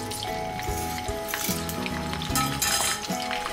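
Pork belly fries in hot oil with a loud, steady sizzle, joined by occasional clinks of a utensil against the pan.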